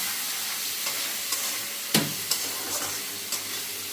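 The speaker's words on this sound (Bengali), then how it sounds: "পেঁয়াজ দিয়ে ভালো করে নাড়ান চাড়ান করতে হবে।" Onions stirred in a hot pan with meat cooking, a steady sizzle broken by several sharp scraping clacks of the utensil against the pan, one louder strike near the middle, no talking.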